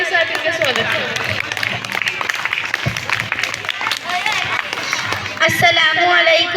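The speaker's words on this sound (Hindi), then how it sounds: "जोरदार तालियों के साथ इनका स्वागत करें" An audience at a school Independence Day event claps warmly to welcome a seventh-grade student speaker. The dense, steady applause runs throughout, with voices talking over it.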